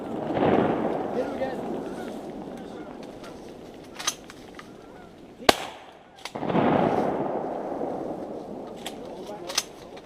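Shotguns fired at geese during a late-season goose hunt, sharp loud blasts with booming decay, two big volleys several seconds apart plus scattered smaller cracks, with hunters talking between shots.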